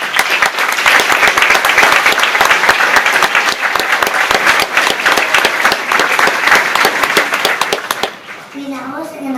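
An audience at a 2016 school animal presentation gives loud, dense applause with crisp individual claps, with children's voices faintly mixed in, before it cuts off abruptly near the end.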